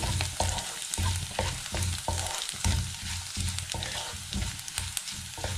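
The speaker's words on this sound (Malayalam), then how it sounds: "വെളുത്തുള്ളി ചേർത്തതിന് ശേഷം നന്നായിട്ടൊന്ന് വഴറ്റി കൊടുക്കുക" Sliced garlic being sautéed with soya chunks in a hot pan, with constant loud sizzling and a regular rhythm of spatula scrapes and stirs, close up, no voices.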